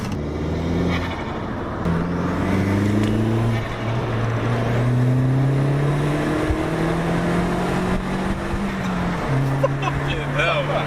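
A turbocharged 1.8T Mk4 Golf fitted with a front-mount intercooler accelerates hard, its engine note climbing in repeated rising sweeps through several gear changes, loud and close throughout.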